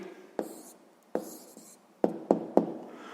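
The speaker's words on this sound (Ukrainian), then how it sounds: "І записуємо відповідь" Pen or pencil writing out the answer to a sixth-grade maths exercise on rectangle area, a few short separate scratching strokes with pauses between them, close and fairly quiet.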